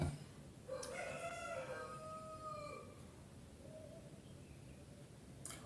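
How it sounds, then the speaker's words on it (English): A single rooster crows once, faint and distant, its drawn-out call rising and falling over a quiet background hiss, with no talking. "And it's always just one chicken, just one, a specific one."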